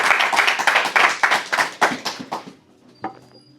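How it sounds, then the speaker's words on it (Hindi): A church congregation claps in a rhythmic, fairly loud burst of hand claps that slows and thins out after a couple of seconds, followed by a lone clap and quiet. "आपकी तालियां बताएंगे कितनी बरकत आ रही है।"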